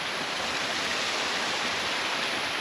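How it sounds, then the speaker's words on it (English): A small waterfall beside a rally stage near old Johannesburg, a dense, steady rushing hiss of falling water, close and continuous with no voices. "Nice little waterfall."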